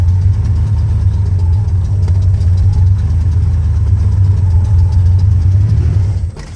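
A manual-transmission car's engine runs loud and steady as the clutch is let out, a low close drone that dips near the end, no speech.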